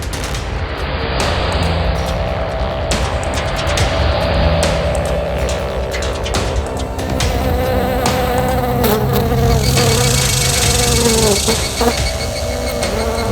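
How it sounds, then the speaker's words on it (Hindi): A housefly buzzes inside a car, a loud, steady drone running the whole time under a busy mix of other sounds. "ये गाड़ी में मक्खी कहां से घुस गई?"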